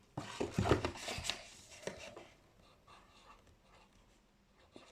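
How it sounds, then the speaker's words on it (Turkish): Handwriting with a pen on paper during a lesson, a series of soft scratchy strokes, loudest in the first two seconds and then fading to faint intermittent scribbles in a quiet room. "ben hemen şuraya yazıyorum"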